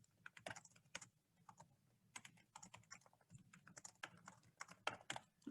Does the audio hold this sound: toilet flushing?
no